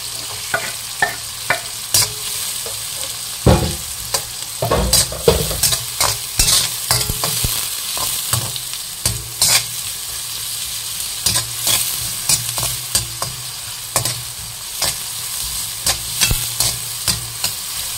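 White onion sautéing in a pan, a steady sizzle under frequent rhythmic spatula strikes and scrapes, close and fairly loud throughout.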